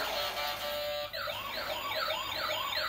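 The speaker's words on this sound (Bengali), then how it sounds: "আরে বাবা পুলিশের গাড়ি তোমার এটা কি পুলিশের গাড়ি?" A police car siren wails steadily, then switches to a faster rising-and-falling electronic sweep, loud and continuous with no voices.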